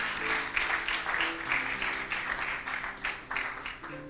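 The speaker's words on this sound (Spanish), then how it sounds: "dale un aplauso al Señor" A church audience gives an ovation to the Lord, sustained clapping that rises and falls in waves, while a musical tone rings faintly underneath.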